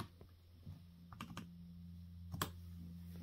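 Quiet typing on an old Lenovo Chromebook keyboard, a few scattered soft key clicks with a couple of sharper taps over a low steady hum, no voices.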